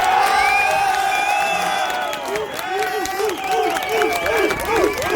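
Large outdoor crowd at a Dublin lockdown rally cheering, whooping and clapping loudly and continuously, with many voices shouting together.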